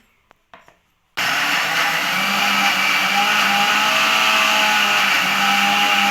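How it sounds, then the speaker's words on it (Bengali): An electric mixer grinding soaked lentils into a coarse paste starts abruptly after a few soft clicks, then whirs loudly and steadily with a high motor whine, close by and without talk. "এখন আমি এটা মিক্সারের মধ্যে পেস্ট করে নেব"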